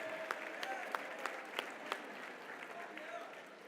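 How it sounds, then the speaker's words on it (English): An audience claps steadily for a performer on stage, a dense patter of hands with a few sharper claps standing out through the short burst. "Give him a nice round of applause"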